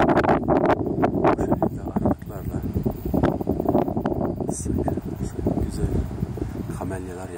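Wind blows steadily across a highland plateau near Kahramanmaraş, buffeting the microphone with a loud, continuous rumble under a person talking.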